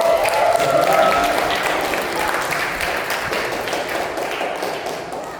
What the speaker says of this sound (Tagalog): Pumapalakpak ang lahat ng bless!